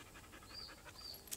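A small dog panting softly in quick, steady breaths, faint and fairly close, with no voices.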